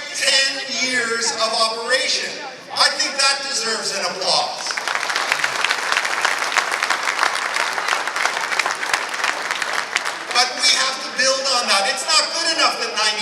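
Sustained audience applause fills a fundraising dinner for Namal College's tenth anniversary, steady and dense for several seconds, with a voice speaking at the start and again as the clapping fades.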